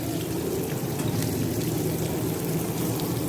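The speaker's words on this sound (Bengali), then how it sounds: "ছোলাটা দিয়ে দিলাম।" Chickpeas frying in spice paste in a pan for a taro curry, a dense, even crackling sizzle heard up close and unbroken for a few seconds.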